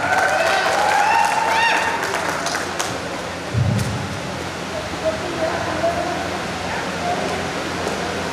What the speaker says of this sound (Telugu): అందరూ గట్టిగా క్లాప్స్।